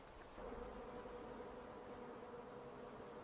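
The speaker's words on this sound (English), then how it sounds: "A dense cloud of angry bees continues swarming around." A dense, angry swarm of bees buzzes steadily around a wild beehive torn open by a honey badger, a continuous close hum with no voices.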